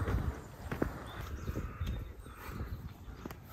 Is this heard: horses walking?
yes